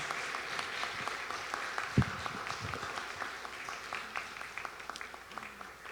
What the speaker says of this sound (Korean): 박수 쳐주셔서 고맙습니다